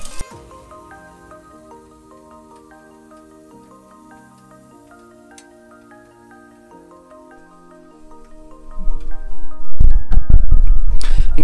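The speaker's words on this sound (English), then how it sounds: "let it boil, go outside and throw it in the air" Boiling water flung into -50 degree frozen air gives a sudden loud burst of hiss and spray near the end, after a stretch of faint background tones.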